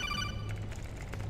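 A codec call ringing in the Metal Gear Solid 4 video game, a rapid electronic ringtone trill at first that gives way to game background sound, fairly quiet, with no speech.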